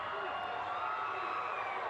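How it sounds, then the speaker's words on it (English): Dense crowd noise at an Astros World Series parade, a steady wall of cheering and whooping from a large crowd in the street, continuous and loud throughout with voices blended into the roar. "And the crowd has really erupted now"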